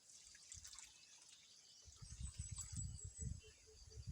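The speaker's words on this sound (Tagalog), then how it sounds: "Lagyan na natin siya ng tubig." Water trickles and drips into a container in short, uneven spurts, quiet at first and then heavier and more continuous, with faint high hiss throughout.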